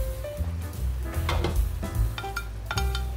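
Chopped tomato lands in a pan of softened, sizzling spring onion, a steady frying hiss with clattering stirs and utensil scrapes against the pan, close and clear.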